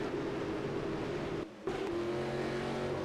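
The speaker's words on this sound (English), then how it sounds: "Well, James, You hear the blown engine, but it's from a car that's in pit road who left the car on." A blown race car engine idles on pit road during a 2003 Cup Series stock car race, a steady loud droning hum with a brief drop near the middle.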